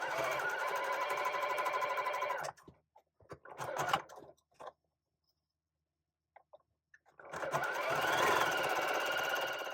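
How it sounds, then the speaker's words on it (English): A sewing machine stitches a quarter-inch seam along fabric in two fast, buzzing runs separated by a pause filled with small handling clicks and rustles, close and alone. "I'm going to sew a 1/4 inch seam allowance along both sides of these lines that are drawn"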